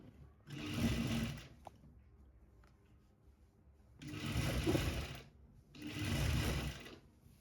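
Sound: sewing machine stitching a sharara top

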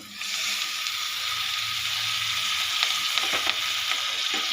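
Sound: ponnaganti greens frying in a pan

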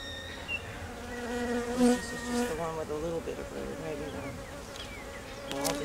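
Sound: honey bees buzzing around hive

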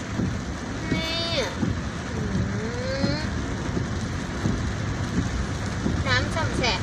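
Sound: heavy rain while driving a car

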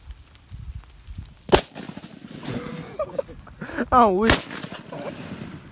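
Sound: gunshots from a Draco firearm

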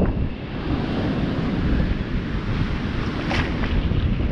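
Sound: wind blowing on the beach

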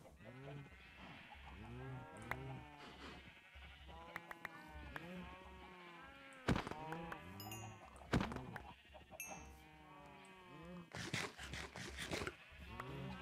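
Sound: sheep bleating in a video game

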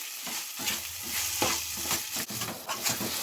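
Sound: ginger being roasted and stirred in ghee

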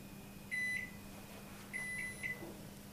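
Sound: Capella combi oven running in microwave mode

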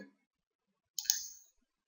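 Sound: mouse clicking while editing text in Camtasia Studio

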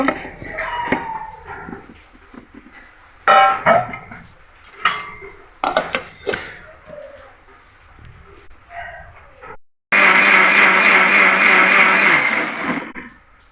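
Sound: mixer grinder grinding mango and jaggery mixture without water

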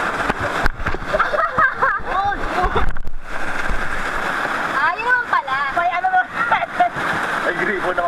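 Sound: river waterfall splashing during rafting

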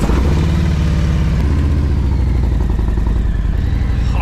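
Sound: motorcycle engine while riding

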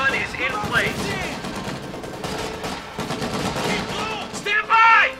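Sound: machine gun fire in Company of Heroes 2 video game

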